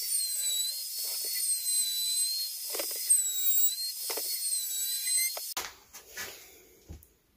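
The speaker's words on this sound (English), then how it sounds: "I'm just going to route a chamfer all over the edge" A router cuts a chamfer along the edge of a wooden sign, a steady high-pitched whine held for about five seconds before abruptly cutting off into a few scattered knocks and handling sounds.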